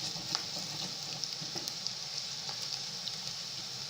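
Onions browning in a pan for a tilapia stew give off a soft, steady sizzle with faint crackles and occasional light pops, quiet and even throughout.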